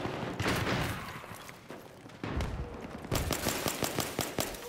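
Rapid gunfire in the video game Battlefield 3 sounds as dense automatic bursts, then a pause and a quicker run of sharp repeated shots, loud and close, with no speech.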